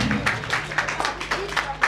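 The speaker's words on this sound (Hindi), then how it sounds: "आप लोगों की जोरदार तालियां होती रहे" Brief audience applause at an award ceremony in Kanpur, a steady patter of clapping from a crowd, moderately loud and evenly spread, with murmuring voices mixed in.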